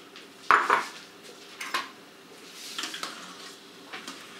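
Pearl barley goes into a pot of pickle soup with potatoes: a sharp clatter against the pot, then softer scrapes and clinks of kitchenware, fairly close and without talk.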